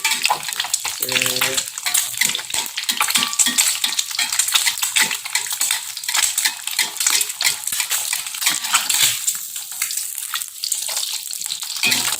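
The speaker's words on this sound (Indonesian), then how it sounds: "ini untuk telur ayamnya kita ceplok terlebih dahulu" Chicken eggs fry sunny-side up for a sweet-and-sour dish, a steady close sizzle and crackle of hot oil with occasional scrapes and clinks of a utensil, running continuously without talk.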